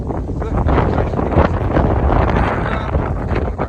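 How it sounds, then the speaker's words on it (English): Loud, continuous wind buffets the microphone, a dense rumbling roar with gusty swells and no clear voices. "Sorry about the wind, it's terrible."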